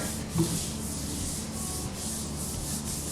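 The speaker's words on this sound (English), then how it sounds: "where I still need to sand" Continuous sanding across a wooden butcher block, a steady, close abrasive hiss with faint rhythmic pulses from the strokes, alone and without talking.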